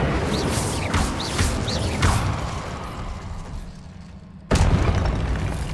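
Incendio fire-spell blasts cast in the video game Hogwarts Legacy, a few whooshing bursts amid mechanical clatter, then a sharp loud burst near the end after a brief lull.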